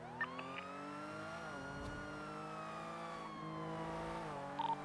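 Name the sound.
car braking hard in a video game (NoPixel, GTA)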